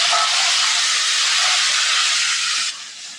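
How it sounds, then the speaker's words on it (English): Running water rinses a hot pan, a steady loud hiss of spray and sizzle for about three seconds that drops off abruptly near the end. "I'm going to just give that a quick rinse."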